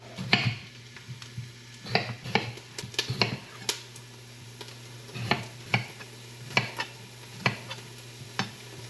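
Onions sauté in olive oil in a soup pot under a low, steady hum, while knife taps and scraping clicks land at irregular intervals close by.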